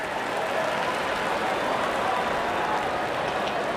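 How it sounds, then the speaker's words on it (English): A stadium crowd in a cricket video game roars and applauds after a wicket, a dense, steady wash of cheering that holds at full level throughout. "there comes the celebration. The crowd loves it"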